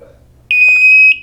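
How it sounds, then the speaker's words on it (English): An Emerald smoke alarm sounds a single loud, sustained high-pitched electronic beep lasting about half a second, close and clear in a quiet room. "when the alarm is going off"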